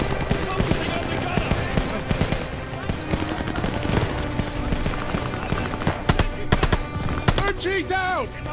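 Machine gun fire pours at a half-track during a Call of Duty Vanguard story mission, dense continuous bursts under a loud battle mix with sharp separate shots and whining effects near the end.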